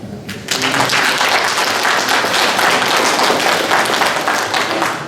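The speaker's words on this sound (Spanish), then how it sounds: "Vamos a recibirlo con un fuerte aplauso." Loud, dense applause from an audience at a university graduation ceremony in Bolivia, rising sharply after a brief quiet moment and sustained steadily to the end.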